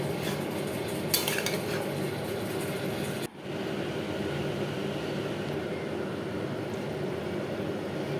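Continuous cooking hiss and bubbling as hilsa fish heads are stirred into simmering vegetables, with a light utensil clink near the start and a short break midway.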